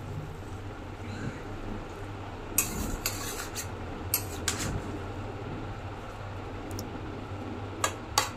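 Pumpkin greens and shrimp stirred in a pan with turmeric and a splash of water, giving a few faint, scattered scrapes and light clinks of the spoon against the pan over a quiet background.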